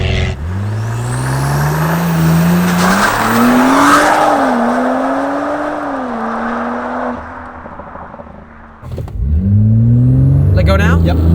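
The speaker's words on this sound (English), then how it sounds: "you'll notice there's a little bit of wheel spin" A tuned Audi S5 Sportback with Quattro all-wheel drive launches hard. The engine roars and climbs in pitch through a shift, with a hint of tire squeal, then drops away before revving loudly again. A voice is briefly audible near the end.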